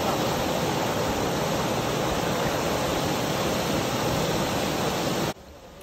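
An icy mountain waterfall in Szklarska Poręba, Poland, gives a steady, loud, unbroken roar of rushing water that drops off abruptly just before the end.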